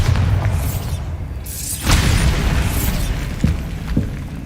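Bombarda spell explosions in the Hogwarts Legacy video game, a loud booming blast with rumbling debris, followed by a second burst midway and a few smaller thumps, with no talk.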